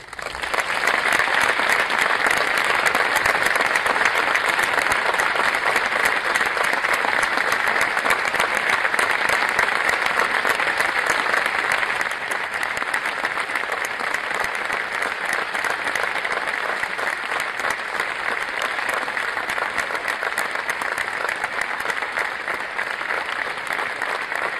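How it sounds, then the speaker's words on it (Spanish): An audience applauds after Sergio Agüero announces his retirement, a dense, sustained clapping that stays loud throughout, easing slightly about halfway through, with no voices heard. "Estar tot el dia, aplaudint-te per tot el que has donat també"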